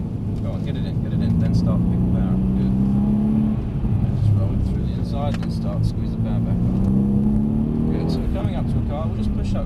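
A Mercedes-Benz C63 S accelerating on a driving experience track, its engine note rising and falling through several pulls under frequent talking from people inside the car.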